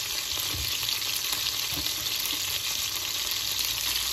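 Food sizzles steadily in a frying pan during holiday-evening home cooking, a dense continuous crackle with occasional louder pops, close and with no talking.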